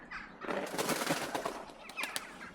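An outdoor bird gives a loud, harsh call in a short burst of raspy, repeated notes close by, followed by a couple of briefer squawks, with no talking.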